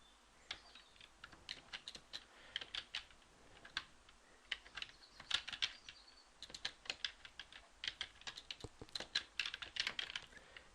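Fingers type ABAP code on a computer keyboard in a steady run of irregular keystrokes, close and distinct, with no talking.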